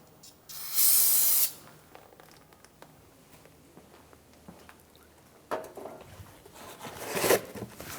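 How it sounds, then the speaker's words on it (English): A short hiss of aerosol solvent spray on a Jeep Grand Cherokee rear brake hose fitting bursts out near the start, followed by quiet handling noises and a few softer spray-like rustles near the end. "you can use a spray solvent and give that a quick spray"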